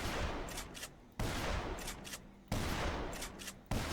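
Shotgun fired while aiming down sights in Dead Island Definitive Edition with a firearms overhaul mod; three loud, evenly spaced booming blasts, each trailing into a rattling echo, with no talk.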